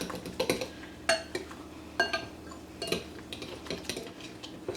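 A fork mixes cornmeal with cold water in a bowl, giving irregular clinks and scrapes of metal on the dish, close and fairly quiet with no talking.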